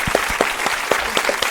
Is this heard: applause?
yes